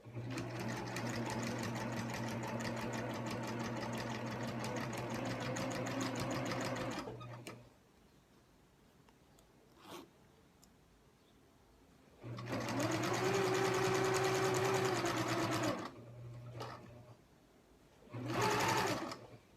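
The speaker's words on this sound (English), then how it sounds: "try and keep a nice straight line sewing within that crease and kind of guide the bag from the back as well as from the front as you sew" A sewing machine stitches a seam on a canvas maker's tote bag in two long bursts of rapid, even whirring, with quiet pauses between them and a brief final run.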